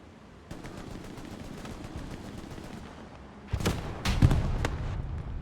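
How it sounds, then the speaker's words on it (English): A machine gun firing from the hip on a rooftop in Hell Let Loose on an Omaha Beach map: sparse distant shots at first, then a loud close burst of rapid rattling fire near the end. "MG on the roof, hip firing,"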